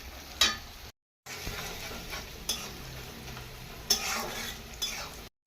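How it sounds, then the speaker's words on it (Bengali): Onions fry and are stirred in a pan with a spatula, making scraping strokes and occasional clinks over a constant sizzle. Two short gaps of silence break the sound, and no one speaks. "একটু যে পেঁয়াজটা লাল লাল করে ভাজা হবে, তারপরে একটু নুন দিয়ে দেবো।"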